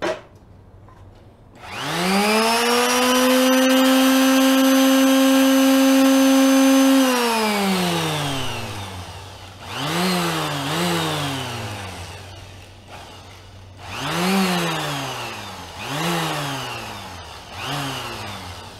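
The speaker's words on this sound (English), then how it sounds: "It looks like this part's a little longer here, so we're going to take that off with the power sander." A power sander trimming the edge of a cut-out number three, whining up to a long steady run, then cutting back in several shorter bursts with gaps between; loud and close, no talk.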